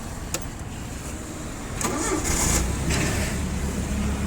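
A petrol two-ton carbureted forklift engine cranks with a couple of short clicks, then catches and settles into a steady mid-pitched idle, close and clear.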